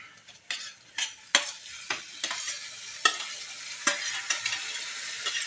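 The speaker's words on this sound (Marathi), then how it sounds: "हा मसाला आहे गरम तुला चांगलं शिजू द्यायचा आहे तर यामध्ये सोडते फुलकोबी" Cauliflower florets are tossed into hot masala with coriander powder in a home kitchen pan, a soft steady sizzle broken by repeated scraping stirs of a spoon, close and moderately quiet, with no talking.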